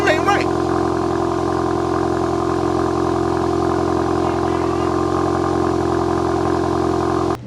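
Volkswagen GTI with a catback exhaust idling after a cold start, a steady low droning rumble held loud and close throughout, with faint voices over it.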